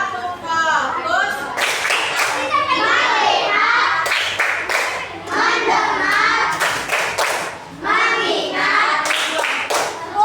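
A group of schoolchildren in a classroom performs a rhythmic clapping routine, crisp claps landing in short patterned clusters while the children chant loudly together alongside them.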